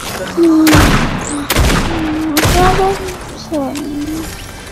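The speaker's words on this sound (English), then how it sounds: "Hey, stop shooting at me!" Loud gunfire in Fortnite: several sharp shots and bursts ring out in quick succession across the whole stretch, with game effects and a voice talking in the background.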